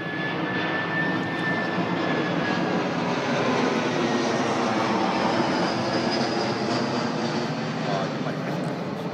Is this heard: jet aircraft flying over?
yes